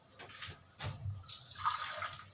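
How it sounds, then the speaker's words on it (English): Water poured into a thick bottle gourd chutney to loosen it, a soft liquid splashing and trickling close by, fairly quiet, with no talking over it. "I am adding little water to make it semi-solid."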